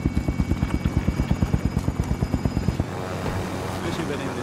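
A helicopter in the Call of Duty Warzone video game thuds with a rapid, steady rotor chop up close, then the beat gives way to a smoother engine roar; game effects sound faintly alongside.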